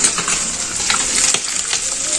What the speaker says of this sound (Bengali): এটা হচ্ছে আমুদি মাছ, এটা ভাজছি।